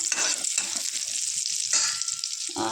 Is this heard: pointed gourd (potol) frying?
yes